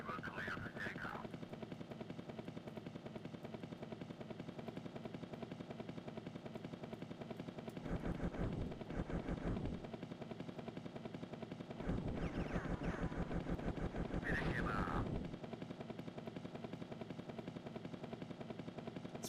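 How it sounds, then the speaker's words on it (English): Helicopters and gunfire in an Amiga coverdisk shooter game: a steady rotor drone with a muffled background tone, broken by two bursts of rapid machine-gun fire lasting a couple of seconds each, with no talking. "Look out for enemy helicopters that may be patrolling the area."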